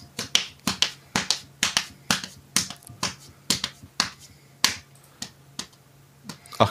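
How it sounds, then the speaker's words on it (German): A run of crisp finger snaps standing in for applause, about twenty dry clicks in an uneven, quick rhythm, close and clear with a faint low hum beneath and no speech. "Applaus."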